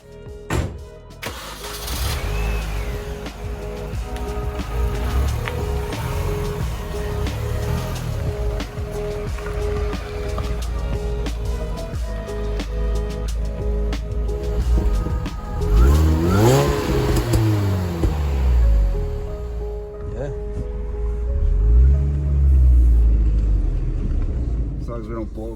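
A supercharged Mini Cooper S takes its first drive in five years. Heard from inside, the engine revs up and down repeatedly with loud surges, while people talk throughout.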